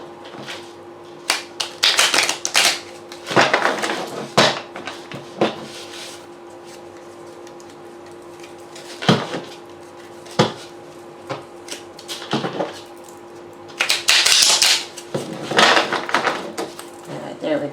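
Light Seer's Tarot cards being shuffled and mixed by hand, close up: intermittent bursts of riffling and soft slaps and taps between quieter pauses, over a steady low hum.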